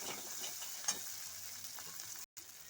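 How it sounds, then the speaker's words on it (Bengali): Prawn malai curry sizzling and bubbling in a pan as coconut milk goes in, a steady hiss of frying with a faint clink, close and fairly quiet, ending in a brief cut to silence. "এবার দিয়ে দিচ্ছি নারকেলের দুধ"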